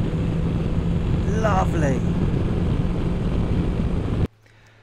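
A 2020 BMW S 1000 XR motorcycle engine pulling steadily in fifth gear at low speed, a constant loud drone with wind noise that cuts off abruptly near the end, while a voice speaks briefly over it.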